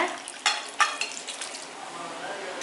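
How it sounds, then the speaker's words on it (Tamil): Spice masala for chana masala sautéed in a pan: a soft continuous sizzle with a few sharper spatula scrapes early on, close and without speech. "இப்போ எல்லா மசாலாவையும் சேர்த்துட்டு நல்லா பச்சை வாசனை போகிற வரைக்கும் வதக்கி விட்டுக்கோங்க"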